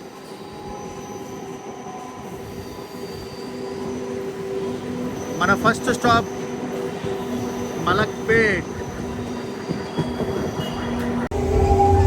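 A MEMU passenger train between Kacheguda and Raichur rumbles along the rails with rhythmic clatter and sharp wheel squeals, while someone speaks briefly over the noise.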